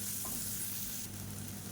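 Small onions sautéing in hot oil in a pan for a healthy drumstick-leaf dish, a steady close crackling sizzle with light stirring throughout, no talk.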